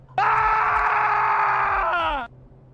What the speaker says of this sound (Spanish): un grito de sorpresa me interrumpió